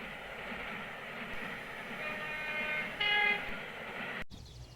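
A steady rumbling train rolls along with continuous mechanical noise, a faint high tone rising briefly near the end before an abrupt cut.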